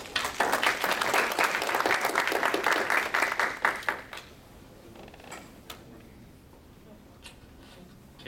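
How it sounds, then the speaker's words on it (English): A conference audience at a startup forum applauds a speaker with brisk, dense clapping for about four seconds, then it thins out to a few scattered claps and quiet room noise. "let's give him a big round of applause."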